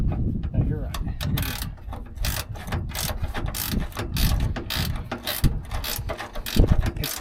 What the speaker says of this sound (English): Flip your wrench over and turn it.